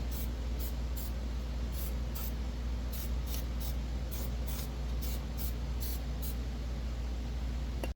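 Permatex spray sealant applied to hold a water pump gasket in place on a Chevy Cruze, heard as a steady hiss of aerosol with a series of short spray bursts over a constant low background rumble.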